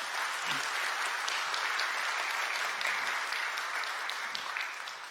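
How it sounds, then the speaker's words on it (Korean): Warm applause from a church congregation at a Sunday worship service welcoming a new member, an even, steady patter of many hands heard from a distance, tapering slightly at the end. "여러분들 따뜻한 환영의 박수 부탁드립니다"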